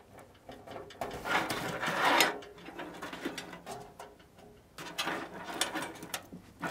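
Cable management ties are worked inside an In Win Ironclad full-size tower computer case, giving a series of quiet plastic clicks and ratcheting snaps in irregular bursts, close by and alone.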